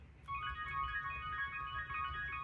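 A Diva virtual synthesizer patch in a music production session plays a steady sustained tone with bright layered harmonics over a low rumbling bed, fairly quiet and unaccompanied by speech.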